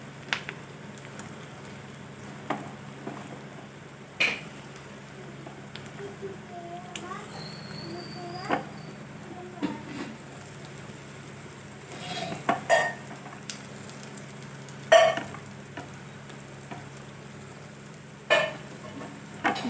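Sliced radish is stirred in a pan on the stove, giving a soft background sizzle broken by scattered clinks and scrapes of a spoon against metal, while someone talks.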